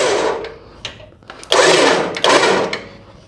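An electric winch spooling in synthetic rope whirs in short pulses, with a high mechanical whine that starts and stops in brief bursts close by.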